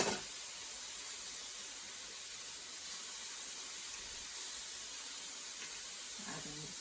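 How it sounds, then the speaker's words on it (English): Stock poured into a pan on high heat for a garlic turkey stir fry, a steady broad hiss and sizzle holding evenly throughout, fairly faint and without talk. "Adding the stock."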